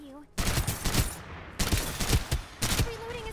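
Rapid automatic gunfire in the shooter Farlight 84 comes in three loud, sustained bursts with brief gaps between them, close and dense, over faint game background sounds.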